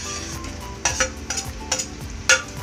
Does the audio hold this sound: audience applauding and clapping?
no